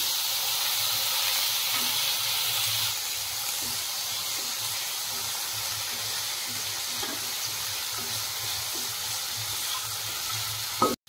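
Continuous loud sizzling and hissing of potatoes frying in hot oil for chowmein, with faint scraping and stirring knocks throughout, no talk.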